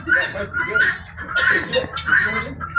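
Guinea fowl give harsh, rapid, chattering calls in repeated bursts, loud and close, with some voices mixed in.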